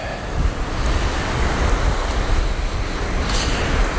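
Water rushes continuously down from river outlets, a loud steady roar with wind buffeting the microphone and no talk.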